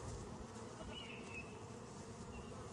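Honey bees buzz steadily at an open hive during feeding, a dense continuous drone close up with single bees whining past now and then.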